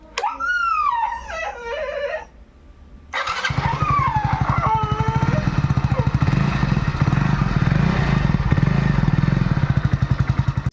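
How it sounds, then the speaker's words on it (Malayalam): A Yamaha RX-Z with a newly fitted HK silencer starts up after some squealing tones, then settles into a loud, close, rapid, throbbing exhaust idle that pulses evenly to the end. "ഷോക്ക് സൈലൻസറിൻ്റെ സൗണ്ട് കാണിച്ചു തരാം"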